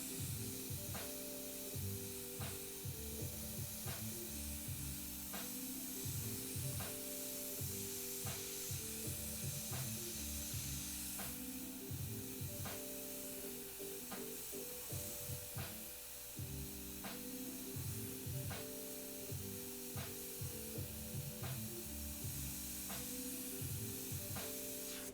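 An airbrush sprays paint onto a Baby Yoda piece with a broad, continuous hiss, interrupted by regular short pulses and sputters as the airbrush misbehaves.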